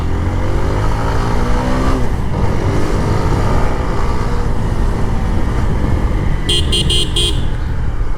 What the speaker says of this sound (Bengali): বাইকের কি সাউন্ড রে ভাইয়া